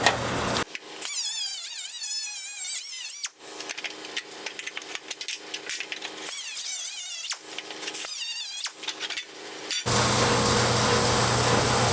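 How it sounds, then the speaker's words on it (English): A power tool cuts across a steel brace on a rusted car panel in repeated loud screeching passes with short breaks, then gives way to a steady whining drone at the end. "Let's go ahead and cut this brace straight across."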